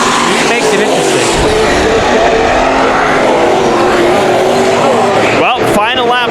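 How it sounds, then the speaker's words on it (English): An IMC Modified race car, the 198, runs the final lap of a heat race on the dirt oval at Bakersfield Speedway, its loud engines roaring continuously under a commentator's excited talk. "Robbie Sawyer in the 198 machine goes through his final 2 turns in this heat race."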